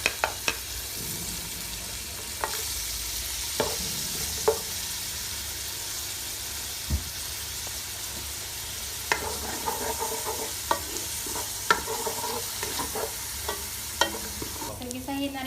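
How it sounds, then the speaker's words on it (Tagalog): Onion and garlic sautéing in a pan for pancit bihon vegetables, a continuous soft sizzle with occasional sharper clicks and scrapes of a stirring utensil against the pan. "Gisa-gisa po tayo ng sibuyas, saka bawang"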